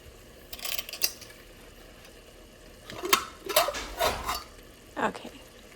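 A pressure cooker of cooked chickpeas being opened, with a few sharp metallic clanks and scrapes of lid and pot in short bursts, close by against a quiet room.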